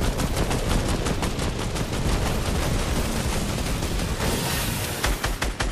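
Rapid automatic gunfire rattles continuously in a Fortnite match, dense and loud bursts with no talking.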